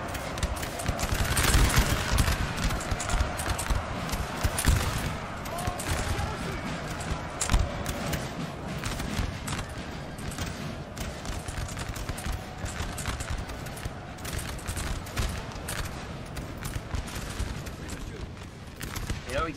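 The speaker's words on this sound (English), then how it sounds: "the French are still just exchanging fire" Massed musket volleys crackle back and forth between French and allied infantry lines in the Napoleon: Total War video game, a dense, distant rattle of gunfire running steadily beneath a speaking voice.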